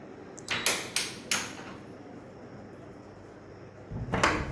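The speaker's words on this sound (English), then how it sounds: "close this door" A door is pulled shut indoors in a quiet room, giving a few close knocks and bumps in quick succession followed by a thud and rattle after a pause.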